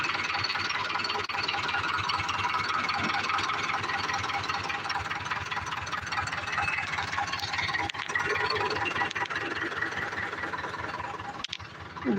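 An old tractor engine runs nearby with a continuous rattling, knocking chug, loud and steady, with a brief clunk near the end.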